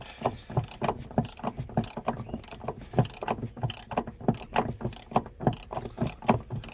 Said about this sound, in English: So I'm just slacking in the handbrake cable off with the 13mm handbrakes off.